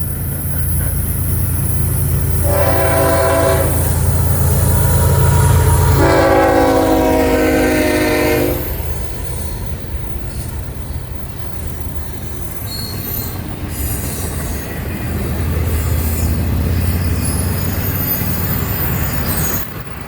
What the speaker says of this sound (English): Okay, here comes the train.